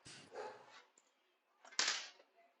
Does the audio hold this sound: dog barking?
yes